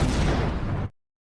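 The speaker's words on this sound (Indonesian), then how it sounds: "Dan boom, pesawat itu pun meledak." An alien spaceship explodes in a film with a single loud, deep boom that rolls on briefly and then cuts off abruptly into silence.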